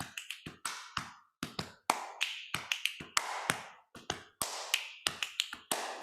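Frame drum lesson playing a fast, shaker-like rhythm of crisp taps, claps and finger snaps in a repeating pattern, close and dry with no talking.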